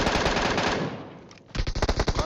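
MK14 rifle fire in PUBG Mobile: rapid, loud bursts of shots, a dense volley first, a short lull, then a fresh string of sharp reports.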